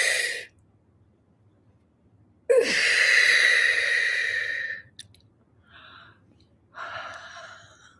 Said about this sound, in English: you breathe in through the mouth. Deep, strong breath.